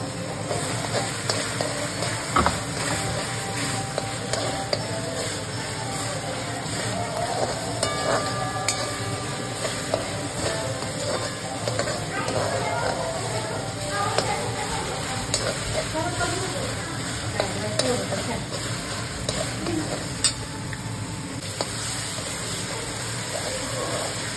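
Masala for matar paneer sizzles steadily in hot oil, a continuous low hiss with faint scraping stirs throughout, while a person talks at times.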